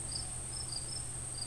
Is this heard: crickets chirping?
yes